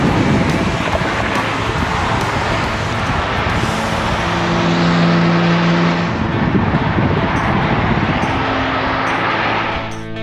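An Aston Martin DB5 drives along among other Aston Martins, a steady loud rush of engine and wind noise running throughout with no talk.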